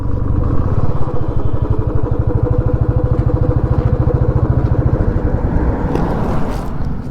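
Motorcycle ridden near Sonmarg on the way to Zojila Pass, its engine giving a loud, close, rapid thumping pulse with rattling, steady for several seconds.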